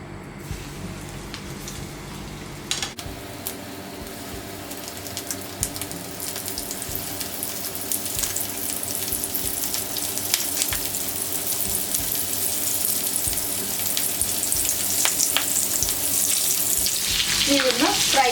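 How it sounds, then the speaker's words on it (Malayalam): Prawns fry in vegetable oil over a high flame, a steady close sizzle that swells louder near the end, broken by an occasional clatter of utensils. "ഇതൊന്ന് ഫ്രൈ ആവട്ടെ."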